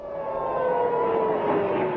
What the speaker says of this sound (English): Air raid sirens were activated in cities across Israel, and people were told to take shelter.